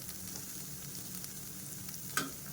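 Vegetables fry in a pan for soybean egg fried rice, a soft, steady sizzle close by with one brief clink near the end, no talking.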